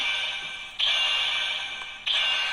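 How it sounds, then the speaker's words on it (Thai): A Kamen Rider Baron DX Bana Spear toy emits a bright, sustained buzzing tone that restarts twice with a sharp jump in loudness, like a charging sound effect. "ก็เสียงชาร์จประมาณเหมือนจะปล่อยพลังนะครับ"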